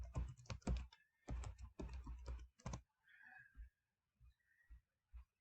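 Keywords being typed on a computer keyboard, with quick clusters of key clacks in two bursts followed by a few sparse, softer taps and quiet pauses, close to the microphone.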